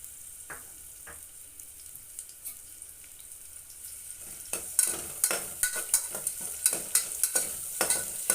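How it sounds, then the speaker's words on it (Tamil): Sliced onions hit hot oil in a pan for mushroom biryani with cashew nuts and spices, bursting into a steady, close sizzle broken by repeated scraping stirs of a spoon, with quiet clinks before the frying starts. "அடுத்து ஆனியன் போட்டுக்கிடுவோம்"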